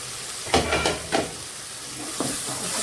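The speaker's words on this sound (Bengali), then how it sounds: "দিয়ে ভালো করে এখন কষিয়ে নেব।" Masala and fried potato are sautéed for rui fish kofta curry, with a low steady sizzle broken by several distinct spatula scrapes and stirring knocks in the pan.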